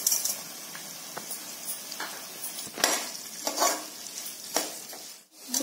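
Moong dal frying in oil with curry leaves and onion for khichdi, a bright, close sizzle with repeated spatula strokes and scrapes swelling and fading every second or so.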